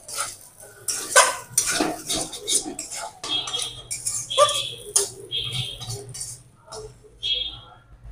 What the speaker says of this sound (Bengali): ধনেপাতা কুচি, নেড়ে চেড়ে নামিয়ে নেব।